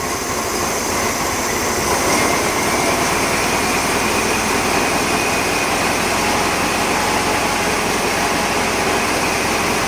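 A junk VW engine on a test run roars loud and continuous, a dense steady drone without pauses or voices.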